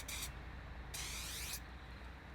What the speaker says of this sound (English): Look at that spray. It is phenomenal.